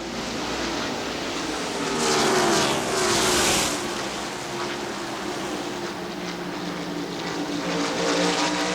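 NASCAR stock cars race side by side at Dover Motor Speedway in the 1990 Peak Antifreeze 500, their loud engine roar swelling and fading as the pack passes, with a surge in the middle and sustained crowd-ambient noise behind.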